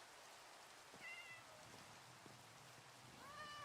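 A cat in the Minecraft video game meows twice, quietly, once early and once near the end, over a soft rain-like hiss.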